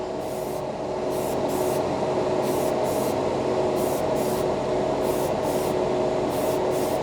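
A Mr. Hobby acrylic paint mix sprays steadily through an airbrush in a continuous close hiss, with short hissing bursts of air layered repeatedly over it.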